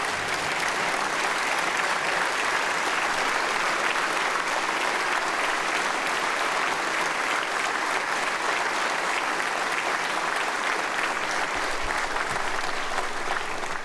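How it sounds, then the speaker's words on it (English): A legislative chamber audience gives Louisiana First Lady Supriya Jindal a long standing ovation, loud continuous clapping that holds steady for the whole stretch, crowd noise only and no one speaking. "if you'd please give Supriya Jindal a great round of applause"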